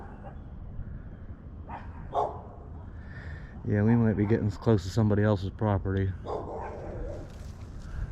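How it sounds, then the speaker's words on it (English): Two dogs bark a few times in the distance at a large old-car junkyard, faint and intermittent, while someone talks nearby. "Hearing that dog barking"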